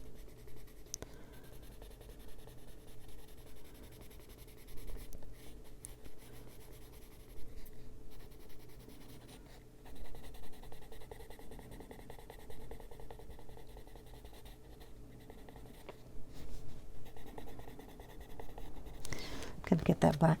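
Colored pencil rubbing and blending on paper while coloring a rooster, soft steady scratchy strokes in a continuous rhythm, close and quiet.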